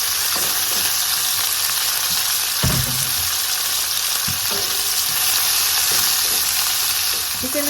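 Meat and squid sauté in a hot pan for a quick vegetable dish, giving a steady close sizzle with occasional scraping and stirring knocks and no talking.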